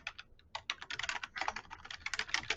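Rapid typing on a computer keyboard while entering a folder name, a quick run of close, crisp key clicks with brief pauses and no talking.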